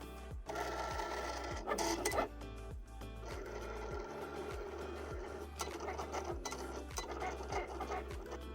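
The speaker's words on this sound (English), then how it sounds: "we could just hit our little Cricut right here, and it'll begin cutting" A Cricut cutting machine slicing vinyl on a loaded mat, giving a steady close mechanical whir with repeated short carriage ticks and scraping strokes throughout, loud and continuous without talk.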